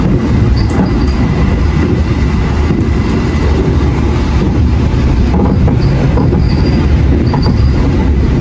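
The Argo Sindo train passes through Kuripan station with a loud, constant rumble of rolling stock and faint wheel squeals and rail clatter, close and steady throughout with no talk.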